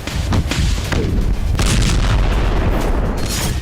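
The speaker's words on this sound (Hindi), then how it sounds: "इजराइल ने खान यूनिस पर 9 बम गिराए। ये विस्फोट अल मवासी कैंप में हुए थे।" Bomb blasts from an Israeli airstrike on the Al-Mawasi camp in Khan Younis: a loud, continuous rumble of deep booms and sharp bursts with no pauses, heavy low-end thuds overlapping throughout, no voices.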